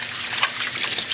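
Alpaca yarn rinsed in a basin of water after dyeing with acid dyes, a steady running, splashing wash of water continuing throughout the short moment with no talk.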